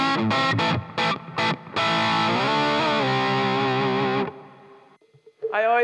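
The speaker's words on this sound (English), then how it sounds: "I have the exact same thing with no delay, little reverb for rhythm." Clean electric guitar rhythm playing with short strummed chords, then a sustained ringing chord with no delay and only a touch of reverb, close and fairly loud.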